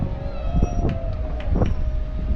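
A Leadville railroad train departs up the mountain in the Rockies, with a steady whistle-like tone held over a low, continuous rumble and a few soft knocks.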